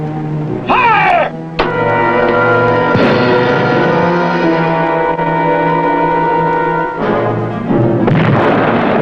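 Torpedoes fired from the submarine USS Bergall make sharp, loud launch bursts followed by a sustained, reverberant rumble with tonal hum, and another burst comes near the end.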